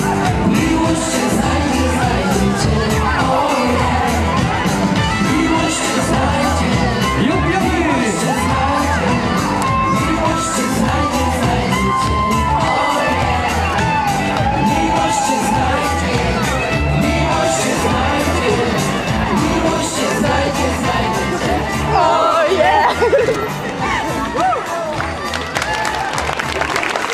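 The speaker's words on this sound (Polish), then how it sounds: "No i ponownie wielkie brawa." A crowd at an Easter dance event in Olsztyn applauds and cheers, continuous loud clapping with shouts and children's voices throughout.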